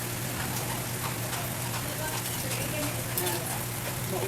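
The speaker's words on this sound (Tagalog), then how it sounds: "Maulan." Steady rain falls outside during home cooking of pakbet, a Filipino vegetable dish. It makes an even, dense hiss with fine scattered patter that continues without a break at moderate loudness.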